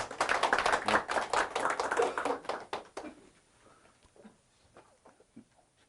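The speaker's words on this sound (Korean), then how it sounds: "그럼 우리 박수로 우리 강사님 모셔볼까요?" A seminar audience at a bar association lecture on law firm management claps together to welcome the lecturer, brisk applause for about three seconds that quickly fades into near silence with faint scattered sounds.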